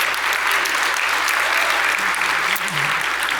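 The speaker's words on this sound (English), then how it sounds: "Let's give her one more round of applause." A React Conf 2025 keynote audience applauds, with steady, dense clapping at a constant level throughout.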